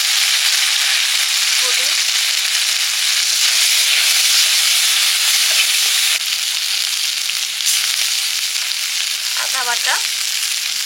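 Panch phoron spices and a spice paste of turmeric and ginger frying in hot oil, a steady loud sizzle and hiss that runs throughout, with someone speaking briefly over it.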